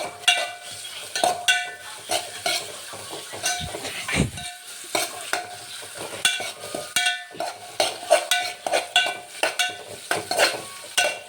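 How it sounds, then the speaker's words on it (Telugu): Onions being stirred and fried in a pan give a continuous sizzle with repeated scraping stirs in an irregular rhythm, close and fairly loud, with no talking. "ఉల్లిపాయలు బాగా తిప్పుకోండి."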